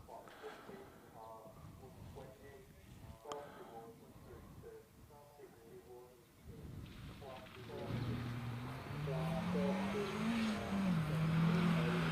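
A Peugeot 206 GTI race car launches from the start line of a Harewood hillclimb. The engine note swells and climbs in pitch as the car pulls away, growing louder through the second half under a commentator's voice.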